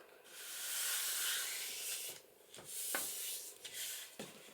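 Paper being burnished down by hand where a strip overlaps about an eighth of an inch, a steady close rubbing swish that runs continuously for two seconds, then breaks into shorter strokes.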